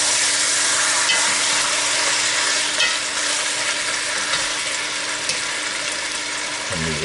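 Chicken pieces being stirred in hot oil for a curried chicken with potato dish, a steady close sizzle with scraping spoon strokes throughout, no talking.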